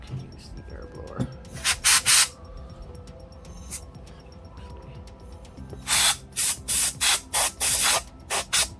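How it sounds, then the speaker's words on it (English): Compressed air blasts cleaning dust from the CPU and GPU of a 12-year-old PS3 console: a couple of short hissing bursts early, then a rapid series of six or seven loud, close spray blasts near the end. "Can use the air blower."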